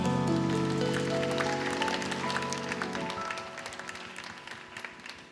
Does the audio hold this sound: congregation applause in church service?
yes